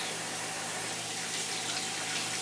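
Running tap water rinsing an heirloom tomato, a steady hissing stream that stays close and constant for the whole stretch, no voices.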